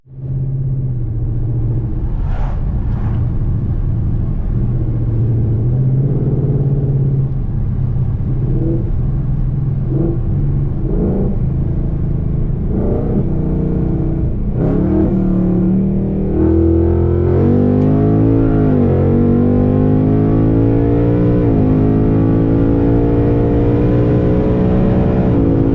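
A Ford Mustang GT S550 makes a full-throttle pull, its deep engine rumble rising steadily in pitch through the gears, loud and close, with a brief shift break partway and a strong climb near the end.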